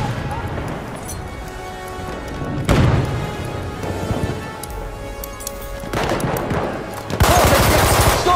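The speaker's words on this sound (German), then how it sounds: "Granate ist raus, hol zu! Ich werf eine Granate auf!" Battlefield 1 multiplayer battle on the Ballroom Blitz map: loud bursts of gunfire and a grenade blast erupt in waves through constant combat noise, with sharp crashes near the start, middle and end while a player shouts over it.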